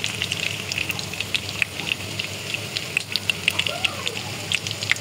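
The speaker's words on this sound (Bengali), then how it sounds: "এর মধ্যে কিছুটা চিকেন ললিপপ আমি ভেজে নিচ্ছি" Chicken lollipops fry in hot oil in a nonstick pan, close up, making a steady sizzle broken by frequent sharp crackles and pops.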